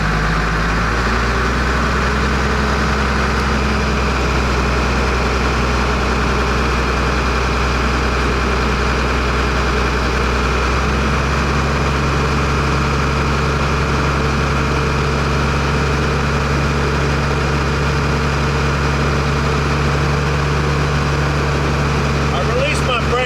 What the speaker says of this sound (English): While my engine is building air